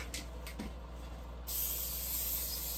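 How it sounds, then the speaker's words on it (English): A can of spray glue hissing in a bedroom, a few short faint bursts and then one steady, louder continuous spray. "something about spray, the glue spray"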